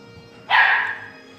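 One sharp, loud bark from a nearby dog aimed at a cat, ringing briefly before dying away into a quiet indoor background.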